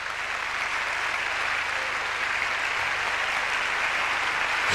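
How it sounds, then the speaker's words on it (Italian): An audience applauds steadily, a dense, even wash of clapping that holds throughout without talk. "è per me abbastanza emozionante ascoltare questo applauso"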